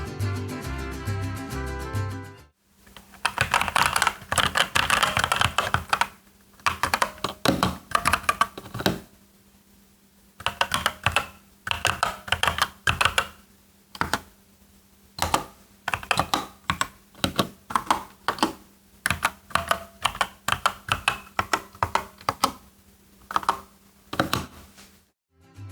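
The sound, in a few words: mechanical keyboard brown switches typing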